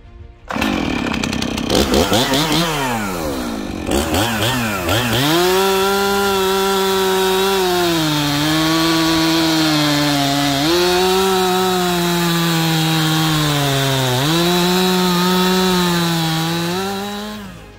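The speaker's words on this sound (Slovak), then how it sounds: "určite použite reťazovú pílu s výkonom minimálne 3 kW" A chainsaw of at least 3 kW cuts into wood, starting with a rough revving sputter and then holding a loud, steady, slightly wavering whine for the rest of the clip.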